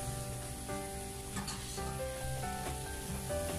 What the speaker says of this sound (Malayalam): ഇനി ഇതിലേക്ക് ചിക്കൻ ചേർത്ത് കൊടുക്കാം